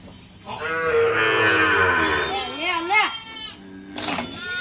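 Village cows, including a Jersey, low loudly and close by in drawn-out calls with wavering pitch, followed by a shorter bellow and a brief burst of noise.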